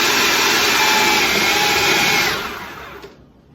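A food processor fitted with a shredding attachment whirs loudly and steadily with a dense motor drone, then winds down and fades out near the end.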